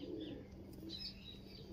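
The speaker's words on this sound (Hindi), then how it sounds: "बींगा जिहड़ा कबूतर है भाई कांते वाला" A pigeon coos softly and low, a short murmuring call close by over faint background hum.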